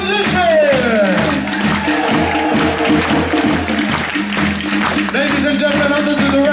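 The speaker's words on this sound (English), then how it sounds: "a roaring round of applause for our drummers and musicians" Audience applause and cheering for drummers and musicians at a Maui Nui Polynesian stage show, loud and sustained, blended with lingering music and percussion throughout.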